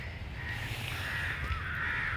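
Crows cawing at dusk as birds head home, a steady outdoor chorus of calls throughout, moderately loud and continuous with no talk.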